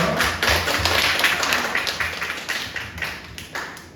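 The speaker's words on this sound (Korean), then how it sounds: "박수로 환영해 주세요." A gathering claps in welcome during a church or community meeting, a fairly close, steady patter of hands that thins slightly toward the end.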